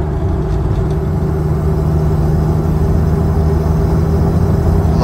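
A truck's newly installed LC Engineering 22RE engine runs at a steady idle, a loud continuous low hum with a constant even drone and no talk over it.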